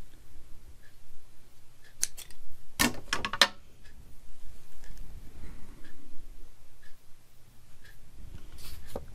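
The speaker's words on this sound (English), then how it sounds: "Get my scissors back out." Scissors snip through lace a few times in quick succession, crisp close-up cuts amid quiet handling noises, with one faint snip near the end.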